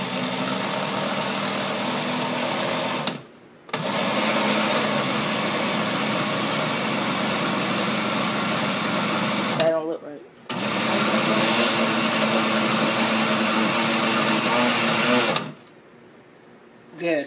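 A blender chops aloe vera gel mixed with lemon juice in loud, steady whirring bursts, three runs split by short pauses, close to the listener.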